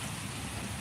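Steady rain falling at a park, a dense continuous hiss of drops close by with no breaks, filling the whole short moment.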